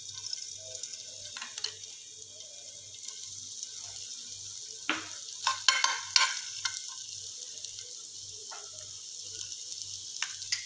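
Chopped ginger sizzles in hot oil in a pan as stuffing for a double decker mushroom dish, a soft steady frying hiss with intermittent stirring scrapes and clinks, a faint regular hum beneath, no voices.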